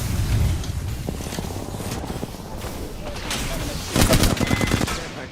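Rapid bursts of video game gunfire crackle through the whole stretch, with a louder cluster of shots near the end, dense and close.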